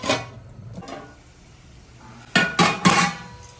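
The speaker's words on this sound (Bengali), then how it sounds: "এবার এই কড়াইটা আমি ঢেকে দেব।" A metal lid is set on a wok of potatoes and meat in hot water. After soft rustling, it lands with three sharp, close clanks in quick succession near the end.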